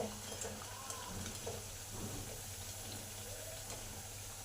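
Pea chops (motorshutir chop) fry in oil over high heat, a steady, fairly faint bubbling hiss running throughout under soft, low background hum.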